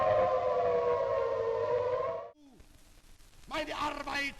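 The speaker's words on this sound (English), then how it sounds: "Sirens." A civil defense siren wails steadily and loudly for about two seconds, then cuts off; afterward come faint background sounds and a voice speaking.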